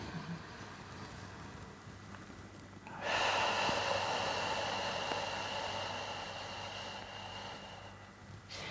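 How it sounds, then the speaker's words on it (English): Slow, deep breaths drawn in and let out through the nose during a guided meditation, a soft airy rush that swells and lingers close to the ear, with no talking. "you continue breathing in and out to the nose, through the nose, into the stomach"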